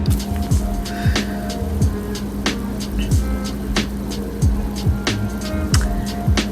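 A bearing spun up fast, giving a steady close whir with regular rhythmic pulses repeating about every half second, fairly loud and without speech.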